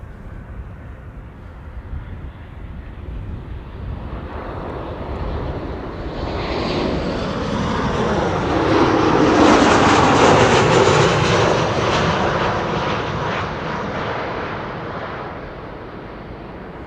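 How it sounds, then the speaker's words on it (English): A KLM airliner arriving from Paris lands at Amsterdam Schiphol, its jet roar swelling from a distant rumble to a loud, broad peak near the middle before fading away, with no talk. "First up, KLM flight 1402, arriving from Paris, flight time 42 minutes"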